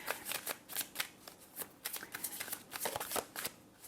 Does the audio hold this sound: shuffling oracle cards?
yes